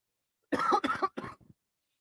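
A man coughs several times in a quick burst, three or four harsh, close coughs that fade into a weaker final one against silence.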